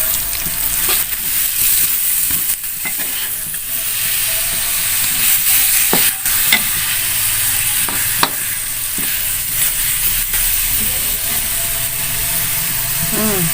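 Spicy fish with basil leaves stir-fried in a hot pan for a Sundanese-style dish, a loud steady sizzle and hiss close up, broken by scraping stirs and clacks of a utensil against the pan.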